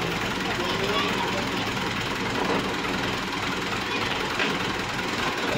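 A Massey Ferguson 240 tractor engine runs steadily at idle after starting, a continuous loud low rumble with broadband mechanical noise throughout, no pauses.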